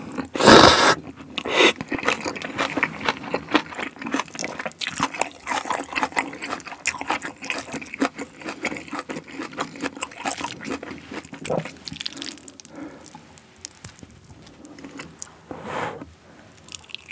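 Close, loud eating of jjajangmyeon with green onion kimchi, spicy chicken and cheese balls: wet slurping, squishing and chewing in irregular bursts with a sharp slurp at the start, no talk.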